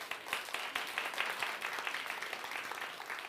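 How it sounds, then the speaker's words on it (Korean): Faint, fairly brief applause from a lecture audience at an agriculture talk, a soft, even patter of clapping hands heard from a distance without any voices. "박수를 받으려고 한 건 아닌데요"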